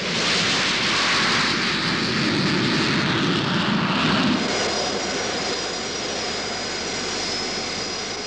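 Concorde jet airliner engines roar in a loud, steady wash of broadband noise, with a deeper rumble swelling in the first half before easing into a sustained whine, no voices present.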